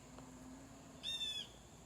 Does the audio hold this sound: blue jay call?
yes